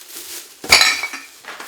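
Glass bottles clink together while recycling is being sorted, with one sharp bright clatter in the middle and a few fainter knocks after it, close by with no talk.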